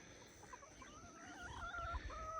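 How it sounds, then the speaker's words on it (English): Backyard farm chickens cluck softly and intermittently in a garden setting, low and somewhat distant, with a few rising calls toward the end and no talking. "Those are the chickens that Tommy grew up with"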